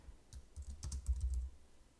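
Typing on a computer keyboard, with soft, quick key clicks close by in a brief irregular flurry and no voices.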